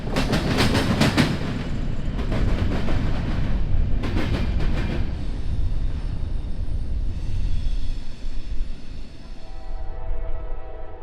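A long southbound intermodal freight train rolls past close by, loud steady rumble with rhythmic clickety-clack of wheels over rail joints, gradually easing as the cars continue by.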